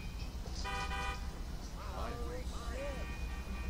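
Car horns honking on a busy street in GTA 5, a loud sustained horn blast early on and another later, set over traffic rumble, with someone talking over the noise.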